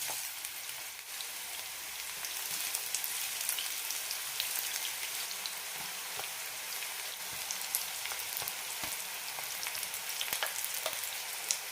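Slices of bitter gourd fry in four tablespoons of hot oil over a medium flame, giving a continuous close sizzle scattered with small crackles and pops, with no talking.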